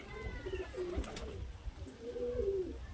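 A large pigeon coos in soft, low rounded phrases, close and fairly quiet, with a couple of breaks between calls and no talking.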